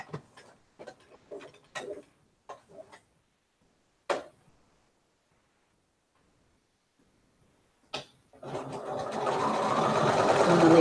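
Sewing machine stitching lines across a knit sweater bag, a string of short bursts of stitching separated by pauses, then a long continuous run of sewing that grows steadily louder near the end.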